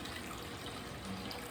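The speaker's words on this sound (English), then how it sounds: "then we're going to add 2 cups of water" Two cups of water running into a pan where butter and brown sugar are melting on an induction cooktop, a steady soft splashing stream that fills the whole moment with no talk.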